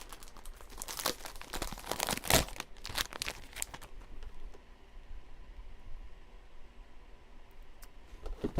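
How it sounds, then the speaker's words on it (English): A plastic bag is torn open and crinkled at a card-making table, with a burst of loud tearing and crackling early on, then quieter scattered rustles. "I just ripped my bag."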